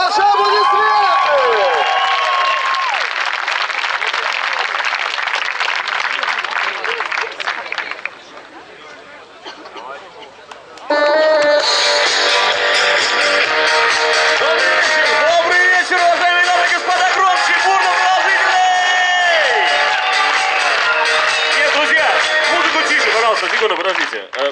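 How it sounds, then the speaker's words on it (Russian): Studio audience at a KVN comedy show in Smolensk, applauding and cheering loudly as a team is introduced, with music playing over the crowd noise, a brief dip in the middle, then a fuller burst of clapping and cheers. "Ваши аплодисменты!"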